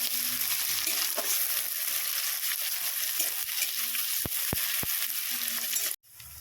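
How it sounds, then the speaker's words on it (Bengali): Chopped onion frying in a pan for chicken chow mein, a loud continuous sizzle with a few utensil taps while stirring, ending abruptly, with no voices. "এবার আমি কুচিয়ে রাখা পেঁয়াজটাকেও দিয়ে দিচ্ছি দিয়ে সাথে একটু ভালো করে নেড়ে দিচ্ছি"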